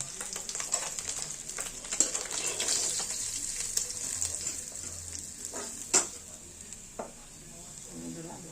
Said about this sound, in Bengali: এইভাবে মাছগুলি সম্পূর্ণ ভেজে তুলে নেব আমরা